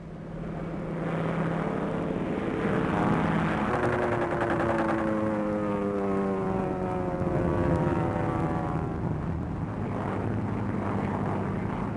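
A combat plane's propeller engines drone steadily in flight over enemy territory, a loud, continuous roar with slowly shifting pitch that holds for the whole stretch.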